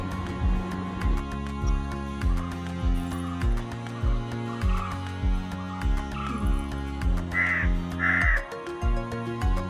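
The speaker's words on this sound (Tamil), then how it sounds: "காக்கா தான் ரெடியாக வந்துருக்கு சாப்பிடுது" Crows caw near a Pongal rice offering set out after a home Pongal festival puja, a few harsh calls rising above steady, rhythmic music playing throughout.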